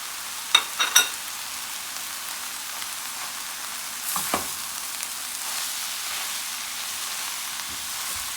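Grated carrots sizzle steadily in a hot frying pan for a fish pie, a close, continuous hiss broken by a few sharp clatters of stirring near the start and midway.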